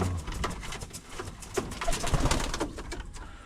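An African Black pigeon coos in soft, repeated low notes at close range, with faint rustling in the background.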